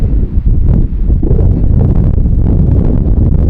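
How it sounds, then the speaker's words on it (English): Strong wind buffets the microphone outdoors in Utah desert country, a loud continuous low rumble with gusty flutter, heard alone with no talk. "Sucks that it's still so windy."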